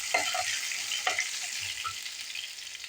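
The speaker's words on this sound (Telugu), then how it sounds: "ఎల్లిగడ్డ ముక్కలు బాగా పచ్చివాసన వేసేంత వరకు వేసుకోవాలి" Chopped ginger and garlic fry in oil in a pan with a bright, steady hiss broken by a few small pops, close up with no talk.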